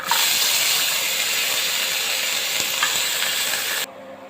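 Garlic and onion frying in a pan for a chanachur bharta with coriander leaves, a loud, steady close-up sizzle with stirring that runs evenly, then drops off abruptly near the end.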